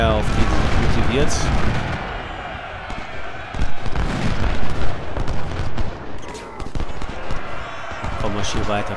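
Cannon and artillery volleys boom through the Ultimate General: Civil War battlefield, a string of heavy irregular blasts mixed with rattling musket-like crackle, while a player talks over the gunfire.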